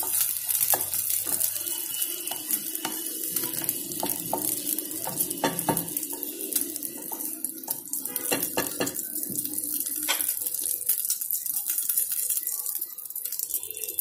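Green chillies cook in a pan for pickle with a continuous, bubbly sizzle and scattered clinks of stirring that stay loud and steady throughout.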